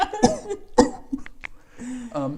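A voice imitates the rasping cough of General Grievous from Star Wars: two sharp, close coughs in quick succession, followed by breathy, wheezing rasps and a throaty ending.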